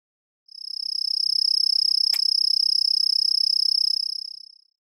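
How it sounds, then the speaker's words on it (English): A cricket gives a steady, rapid, high-pitched trill of pulsed chirps that runs unbroken for about four seconds. It sounds close and clear, with nothing else heard. "cricket"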